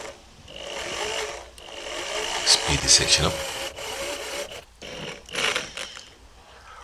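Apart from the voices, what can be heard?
drilling a hole in Mountfield blade holder boss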